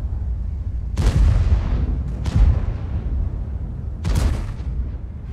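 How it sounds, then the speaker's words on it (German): Tank cannon fire in the World of Tanks video game, three heavy booming shots with rumbling decay, the last two spaced closely, over a steady low engine drone with no talking. "Ich würde gerne einmal noch einen Schuss ablassen."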